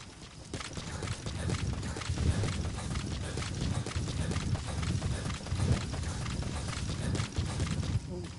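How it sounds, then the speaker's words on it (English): A horse's hooves clip-clop in steady, repeated footfalls throughout, heard at close range in the open-world stealth game Metal Gear Solid V: The Phantom Pain. "That's my horse."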